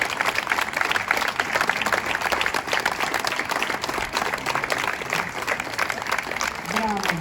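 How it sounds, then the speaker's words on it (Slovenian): Audience applause for a girls' choir after a closing concert, continuous clapping from a hall audience with voices underneath and someone starting to speak near the end. "jaz lepo prosim en velik aplavz ponovno za"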